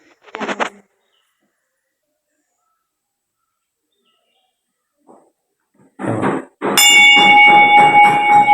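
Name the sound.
temple bell ringing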